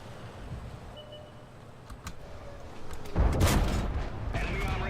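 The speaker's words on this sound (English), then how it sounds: "And artillery." Artillery fire from an SU-14-2 in a tank battle video game, a heavy booming blast arriving near the end, preceded by a few faint distant cracks over low battle rumble.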